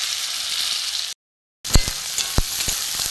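Chopped onion and tomato fry in a pan with a steady loud sizzle, a brief silent gap, then more sizzling with stirring knocks and crackles.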